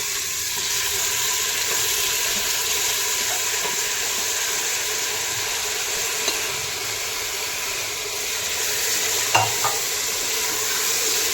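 Vegetables for vegetable biryani are stirred and fried in a pan, producing a continuous, even sizzle with a few soft scrapes of the spoon.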